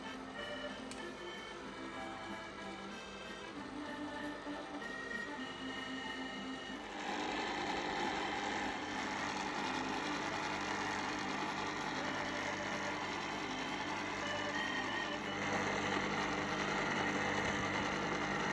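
Sorbet machine churning lemon sorbet, a faint steady mechanical hum with light ticking that grows slightly louder and brighter partway through, running alone without talk.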